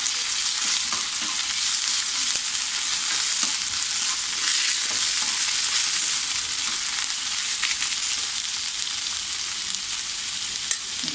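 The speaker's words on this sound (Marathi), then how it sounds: "आता आपण त्याच्यामध्ये 1 चमचा आलं लसणाची पेस्ट टाकूया. तो सुद्धा थोडा आपण असा परतून घेऊया." Chopped onion sautés with a spoonful of ginger-garlic paste in a pan while cooking a cauliflower, potato and pea bhaji, making a constant, dense frying hiss with occasional soft stirring scrapes and no voices.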